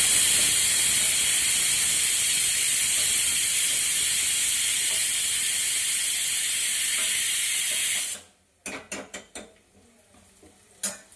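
Steady loud hiss of steam from a pressure cooker boiling potatoes in a home kitchen, running continuously for about eight seconds before cutting off, followed by a few faint clinks and knocks.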